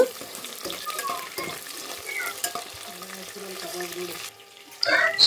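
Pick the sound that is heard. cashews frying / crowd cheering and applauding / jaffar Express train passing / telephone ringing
cashews frying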